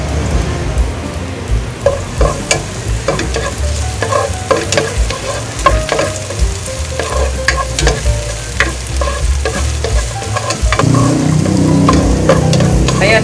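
Onions sautéing with garlic in a hot pan, a steady close sizzle broken by repeated scraping stir strokes, the frying growing louder and denser toward the end.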